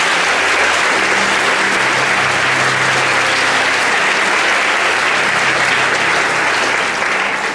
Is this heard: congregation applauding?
yes